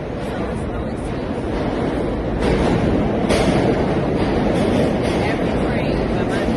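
A subway train arriving at a station, a loud, continuous rumble and roar that swells partway through, with squealing and rattling on top.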